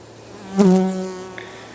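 Honey bees buzz at an open hive in an apiary during a frame inspection, a close, swelling drone that peaks and fades over a couple of seconds, with no talking.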